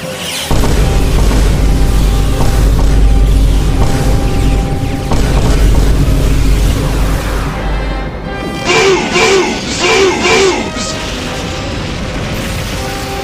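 In an anime space battle from Queen Emeraldas, weapons fire and explosions build from a deep, heavy rumble into a cluster of sharp, loud blasts, then fade into a lingering roar.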